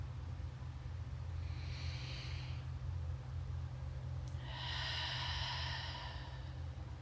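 Two long, airy breaths during a yoga session for upper-body tension, a shorter inhale followed by a longer, louder exhale, close and soft over a steady low background hum.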